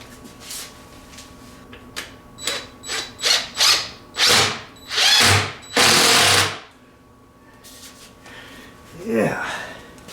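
A power drill drives 1-inch stainless steel flathead screws into a cheap fillet board, a series of short, rising whirring bursts close by, followed by a quieter pause and another brief burst.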